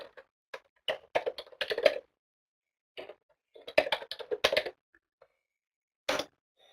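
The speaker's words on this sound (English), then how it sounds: "I'm going to put that right into the chat box for you" Someone types on a computer keyboard into a chat box in short bursts of clicky keystrokes separated by pauses, close and moderately quiet, with no talking.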